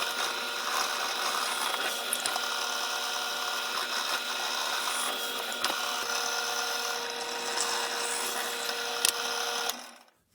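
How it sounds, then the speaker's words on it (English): A power drill whines steadily, re-drilling holes in wooden toy wheels at a constant pitch for about ten seconds before cutting off abruptly. "what I'm going to do is I'm going to re-drill these holes."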